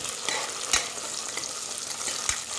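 Onions fry in a pan with ginger garlic paste for a spinach rice dish, giving a steady soft sizzle with a few scraping stirs, moderately quiet and with no voices.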